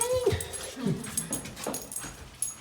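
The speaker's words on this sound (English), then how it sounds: "What you barking at, baby?" A dog whimpers and gives short yips and barks close by at home, mixed with brief vocal sounds, fairly quiet and fluttering over a couple of seconds.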